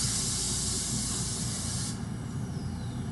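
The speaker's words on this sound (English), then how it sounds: "we're going to bring the pan back, do a light spray." Cooking spray hisses steadily onto a muffin tin in a kitchen, one continuous close spray lasting about two seconds before cutting off to quiet room tone.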